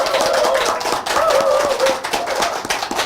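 An audience claps to welcome a professor giving a short lecture on laughter: dense, steady, fairly loud applause runs through the whole stretch, with a faint tonal whine in the background.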